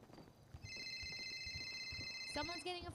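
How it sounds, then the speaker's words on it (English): A telephone rings with steady high electronic tones, cutting off near the end as a person speaks over the faint background. "Someone's getting a phone call."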